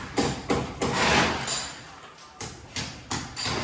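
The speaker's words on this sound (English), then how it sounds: "They are doing the hammer drill." Loud, close bursts of power-tool hammering come in short repeated runs separated by brief pauses, a hammer drill boring into a hard surface during aircon installation in a house build in the Philippines.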